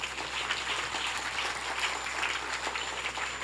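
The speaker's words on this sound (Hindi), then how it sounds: "माँ दुर्गा, तालियों से स्वागत करिए।" An audience at a Devi Bhagwat Katha religious gathering claps to welcome Maa Durga, a steady, dense burst of many hands clapping at once, filling the hall evenly from start to end with no one speaking.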